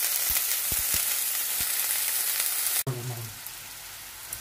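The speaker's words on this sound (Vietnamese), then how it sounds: "bỏ sò điệp vào á, anh chiên sơ nha bạn" Scallops sizzle steadily in a hot pan, a loud crackling hiss with a few sharp pops, then quiet abruptly to a softer frying.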